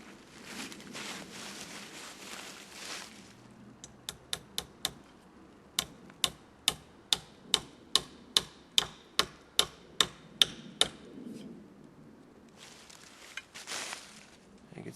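A SOG tomahawk's checkered hammer head drives a galvanized nail, about fifteen sharp metallic strikes in an even rhythm, close and crisp, bracketed by quieter handling noise before and after.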